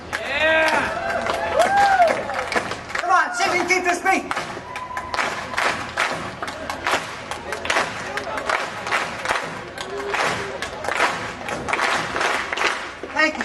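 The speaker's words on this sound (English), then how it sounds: "Thank you so much for rhythmically clapping along as a small gesture of reciprocity" Keynote audience clapping along in rhythm to a beat, dense steady claps mixed with crowd noise and cheering, loud and continuous throughout, with music and voices underneath.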